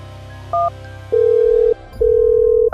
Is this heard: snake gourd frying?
no